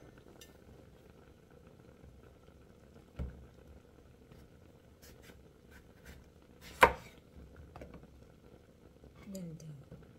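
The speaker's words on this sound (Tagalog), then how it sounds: "Hiwain na natin yung talok mga lalabs" A knife slicing eggplant on a board in a quiet countryside kitchen, with a few isolated cuts spaced seconds apart, one louder than the rest, over a faint background.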